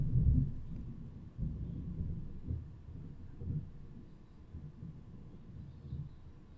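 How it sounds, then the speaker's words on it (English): Thunder from a storm rolls in low, deep rumbles, a strong burst at the start followed by several further swelling rolls that fade gradually, heard at a distance. "Apparently it's a bit stormy where I am right now."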